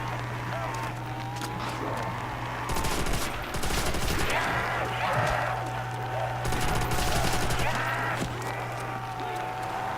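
Sustained automatic gunfire from a light machine gun in a Call of Duty zombies custom map, Berlin Bank, rattling in dense bursts over a steady low hum, with louder volleys near the middle and end.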